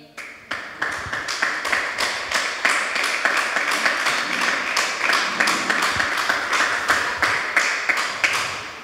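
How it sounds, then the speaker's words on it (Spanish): A church congregation applauds in praise, sustained rhythmic clapping that builds quickly into a loud, even pulse of claps and holds steady. "Un aplauso al Señor"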